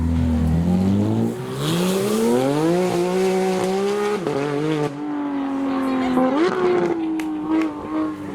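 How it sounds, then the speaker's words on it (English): A Porsche GT3 RS supercar drives past loudly, its engine revving up through rising gear pulls with a brief tire squeal, the high-pitched engine note close and dominant throughout. "Oh yes, the GT3 RS is back."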